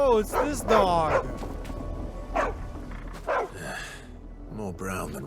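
A dog in Final Fantasy XVI barks and yips in a few short bursts over the game's ambient background, with character dialogue heard between the barks.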